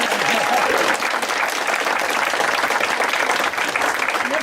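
Family guests at an 80th birthday gathering applauding Annie, a warm, dense round of clapping from a roomful of people that stays steady and full for the whole span.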